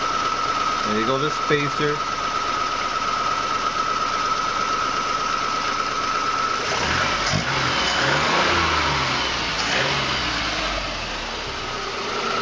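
Engine of an 1986 Chevy Sprint fitted with a Datsun carburetor running steadily and loudly throughout, with someone speaking briefly early on and the engine note roughening midway.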